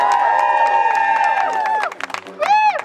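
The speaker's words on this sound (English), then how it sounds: "Give yourselves another big cheer." Teachers gathered in a crowd at a protest outside New Vic College cheer and call out loudly together, raised voices rising and falling in bursts close by.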